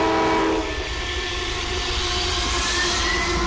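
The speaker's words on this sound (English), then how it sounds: "a CSX auto-rack train came flying by on the Kirkwood grade" A CSX auto-rack freight train led by a weathered AC4400CW locomotive rushes past on the Kirkwood grade main line, its loud, steady rumble and wheel noise filling the air close by with a continuous high whine.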